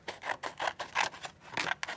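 Scissors snip through yellow paper close up, a quick series of crisp rasping cuts in an uneven rhythm that lasts about two seconds.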